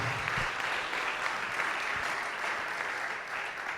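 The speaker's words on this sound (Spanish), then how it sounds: "Demos un aplauso al Señor" Church congregation clapping in praise during a Spanish-language sermon on the Trinity, a steady wash of many hands at moderate volume with a few heavier thumps, continuing unbroken and without speech.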